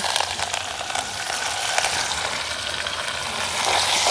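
Squid stir-fried with shallots, green chilies and curry leaves in a pan, a dense close-up sizzle and hiss with faint stirring scrapes throughout.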